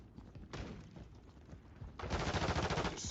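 Sniper rifle fire in a video game cracks out as a few sharp reports and then a denser run of shots, fairly faint in the mix.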